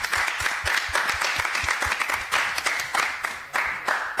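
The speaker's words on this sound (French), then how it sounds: "Applaudis Cyril" An audience at a live stream show claps steadily in a brief burst of applause, the rapid clapping moderately loud and without talk.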